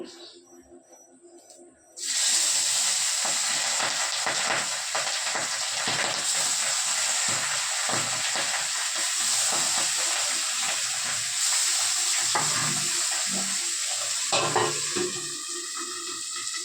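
Boal fish frying in hot oil under a lid, a loud steady sizzle and crackle that bursts in after a quiet start and holds for the rest, with occasional lid rattles.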